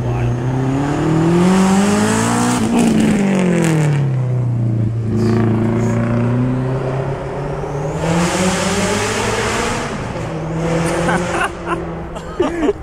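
A caged race car at the Reading hill climb accelerates past with a rising, then falling engine whine and a gear change. A second engine rises toward the end.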